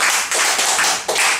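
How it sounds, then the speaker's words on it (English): A class of students claps for a classmate who answered correctly in an introductory ICT lesson, a short burst of dense, close hand clapping that briefly dips and resumes. "Give him a clap"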